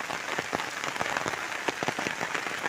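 Heavy rain falling in a village, a dense steady patter with sharper drop hits scattered throughout, close and fairly loud with no talking.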